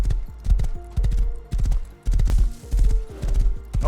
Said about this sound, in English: I grabbed my horse and went out on a nice little roam.